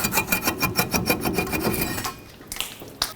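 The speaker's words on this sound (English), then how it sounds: "Now you can pull the rotor off." A brake rotor on a Chevrolet Express wheel hub is worked loose with a quick series of rhythmic metallic scraping rubs. A couple of sharp clunks follow as it comes free, all close up with no talking.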